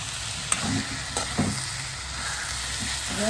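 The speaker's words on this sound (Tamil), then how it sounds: "இப்போ பாருங்க நல்ல தக்காளி பழம் வதங்கிட்டு" Tomatoes for a drumstick curry sautéing in a pan give a continuous close sizzle, broken by a few soft knocks and stirring scrapes, with no talk.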